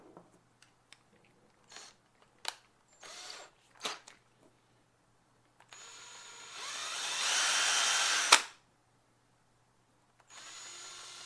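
Power drill whirring in bursts: several short trigger pulls, then a sustained run of a few seconds ending in a sharp click, with a quieter hum resuming after a pause.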